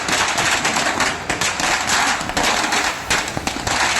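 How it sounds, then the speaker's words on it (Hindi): Firecrackers burst at a street celebration in Badlapur, Maharashtra, a loud, dense, unbroken crackle of rapid pops with no voices. "एनकाउंटर के बाद फूटे पटाखे"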